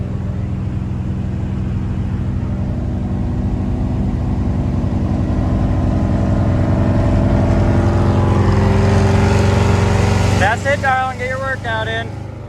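A 1982 Chevy square body truck that sat in a field for years drives along, its steady engine drone and road rumble continuous and loud throughout, with a brief burst of chirpy, whistling sounds near the end.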